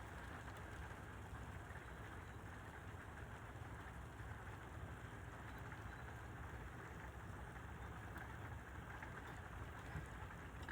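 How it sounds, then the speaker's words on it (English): Rain falling on a tin roof outdoors, a steady, soft hiss of drops with a low rumble underneath, continuous and fairly faint throughout with no talking. "Can you hear that rain?"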